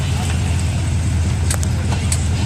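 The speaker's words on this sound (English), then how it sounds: "He's gonna back in next to you, John." A car at an outdoor car show backs slowly into a parking spot beside another car, its engine rumbling steadily up close with a few faint knocks over it.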